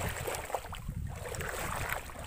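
Strong wind blows outdoors on a cool day, buffeting the microphone in a steady, loud rushing roar with gusty swells and no voices.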